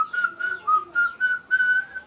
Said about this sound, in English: we can express our happiness by whistling